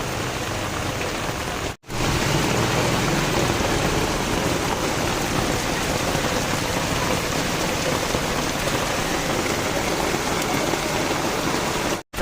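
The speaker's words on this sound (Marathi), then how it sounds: "चांगलाच जोरात पाऊस लागला मागे" Heavy rain pours steadily and loudly outside a roadside shop, a dense continuous wash of drops with two brief dropouts and no talking.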